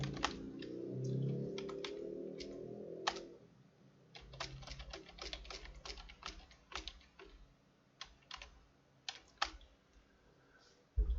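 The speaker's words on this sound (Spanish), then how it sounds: "Ese es mi teclado que está, se traba la tecla enter." Someone types on a computer keyboard with a sticking Enter key, producing irregular close clicks and taps in loose bursts over a low background hum, with no talking.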